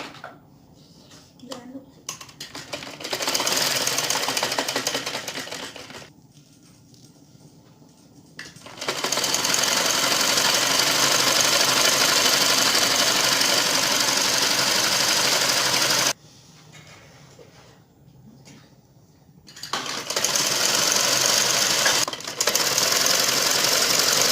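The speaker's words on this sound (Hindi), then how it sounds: "अब नाली की सिलाई लगाते हैं, दोनों साइडों को फोल्ड करके 7 इंच यहाँ से सिलाई लगाना शुरू करते हैं" Sewing machine running in long steady bursts while stitching the drawstring seam of a shalwar, its close whirring motor stopping briefly between runs.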